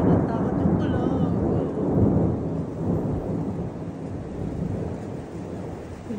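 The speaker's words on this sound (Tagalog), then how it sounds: "Narinig nyo guys, nakakatakot yung kulog." Heavy thunder rolls and rumbles continuously over steady rain, loud and booming, with gusts of wind buffeting the microphone.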